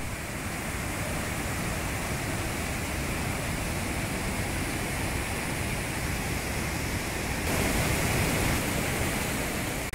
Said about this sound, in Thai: น้ำตกส่งเสียงดังลั่นป่าเลยครับ